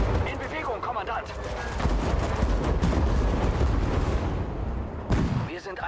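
Gunfire in the strategy game Sudden Strike 5: dense, rolling volleys of shots and heavy booming blasts that continue without pause, with voices calling out commands over the battle.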